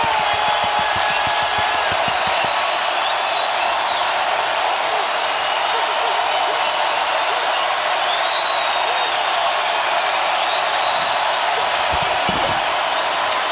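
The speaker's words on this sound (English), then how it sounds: "Crowd's into it." A large football stadium crowd at a Giants versus Saints game in New Orleans roars in a dense, continuous wash of cheering and whooping, loud and unbroken throughout, with a commentator's voice faintly mixed in.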